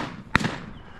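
A single sharp shotgun blast goes off during an Arizona quail hunt, one loud crack with a short fading tail over quiet open-air background.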